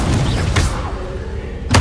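A spell burst from Hogwarts Legacy lands as a deep booming blast, with a second sharp impact at the end amid game combat noise, loud and close.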